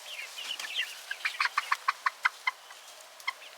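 Backyard chickens clucking near a feed pail, a run of short rhythmic clucks building into a series of sharp, evenly spaced calls, then a final cluck after a pause, fairly close and alone.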